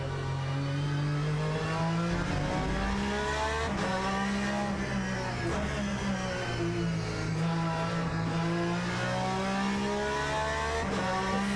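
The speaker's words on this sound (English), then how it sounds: "engine braking on this one to help out." Race car engine in the sim racing game Le Mans Ultimate, revving and droning loudly and continuously with shifting pitch as gears change, a faint tire squeal underneath and no voices.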